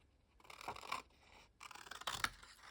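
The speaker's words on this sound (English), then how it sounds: "So now I will just also cut these small ones out." Scissors snip small shapes out of fabric or paper in two short bursts of close, crisp cutting with brief pauses between.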